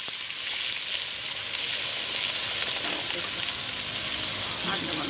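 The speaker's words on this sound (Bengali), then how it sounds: "মশলাটা কষানো হয়ে গেছে, এইবার আমি পরিমাণ মতো জল দেব" Water is poured into sizzling fried masala for a fish curry, giving a loud, continuous hiss and bubbling close by that stays even throughout, with a voice faintly audible underneath.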